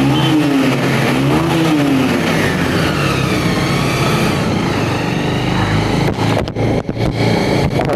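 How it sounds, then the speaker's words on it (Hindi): A Bajaj Pulsar 150 motorcycle engine revs loudly up close, exhaust pitch climbing and dipping, then settles into a rough idle with a few sharp pops near the end. "इसका यार एग्जॉस्ट साउंड सुनना है एक बार।"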